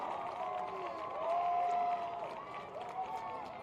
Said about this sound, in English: the crowd really making noise here now